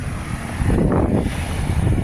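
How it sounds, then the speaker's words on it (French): Strong gusting wind buffets the microphone outdoors on the Camino de Santiago, a dense, continuous low rumble that swells in the middle, with no talking. "It's even hard to maintain my flag because there is a lot of wind."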